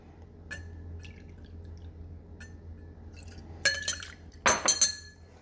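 Rye whiskey poured into a glass at a bar, a brief trickle and clink of liquid against glass near the end, fairly quiet and with no talking.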